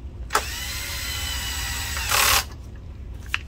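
A cordless power driver whirs steadily for about two seconds while tightening screws inside a Sony VPL-HW45ES SXRD projector, its clutch set low, ending in a brief harsher burst as the screw seats, then quiet.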